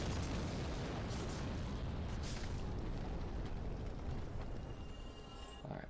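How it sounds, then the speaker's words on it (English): Bomb explosions thrown by an enemy in Dark Souls Remastered at Sen's Fortress, a dense roaring blast that fills the whole stretch and slowly decays, loud and close without talk. "this guy's throwing giant explosives everywhere"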